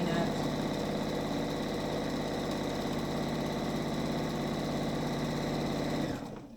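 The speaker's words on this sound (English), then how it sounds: "I'm just stitching down the side, ending about a 1/4 inch from the other edge" A sewing machine runs in one steady, close burst, stitching down the edges of a chenille fabric square, its rapid needle chatter continuous for about six seconds before it slows and stops.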